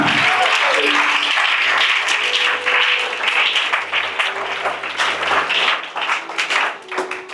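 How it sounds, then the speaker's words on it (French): A church congregation applauds loudly and steadily throughout, dense clapping with some voices and tones rising underneath. "On acclame Jésus."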